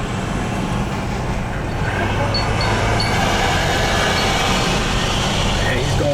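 A long-hood-forward Norfolk freight train rolls slowly past a railroad crossing, a continuous low rumble of wheels and engine with faint squeals, while people talk nearby over it.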